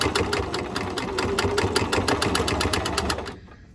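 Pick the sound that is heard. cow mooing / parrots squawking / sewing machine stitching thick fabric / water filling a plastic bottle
sewing machine stitching thick fabric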